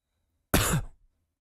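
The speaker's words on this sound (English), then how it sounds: "Turn your head and cough," One short, harsh cough, close and loud, following a request to cough. It cuts off quickly into silence.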